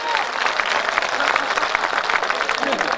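An audience at a Hindi comedy poetry gathering in Mhow claps with both hands raised overhead, producing dense, steady applause that fills the whole three seconds at close range, loud and continuous with a faint crowd murmur beneath.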